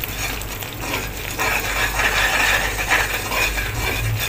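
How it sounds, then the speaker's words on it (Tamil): A spoon stirs and scrapes a Mysore pak mixture with ghee in a pan, with loud continuous scraping over a soft frying sizzle and no talking. "அப்படியே கிளற கிளற ஒட்டாமல் வரும்"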